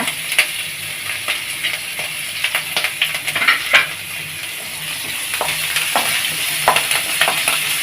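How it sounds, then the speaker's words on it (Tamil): Ginger and green chilli fry in hot oil with mustard seeds and cumin for a Bombay chutney, giving a steady close sizzle broken by repeated stirring scrapes across the full stretch. "இஞ்சி பச்சை இதுவும் நல்லா எண்ணெயில் வதங்கணும்"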